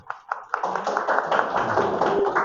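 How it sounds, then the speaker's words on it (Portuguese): A classroom group claps for student actors, starting with a few separate early claps and then building into a brief, fairly close burst of steady applause, with some voices underneath. "Salva de palmas para os atores aqui"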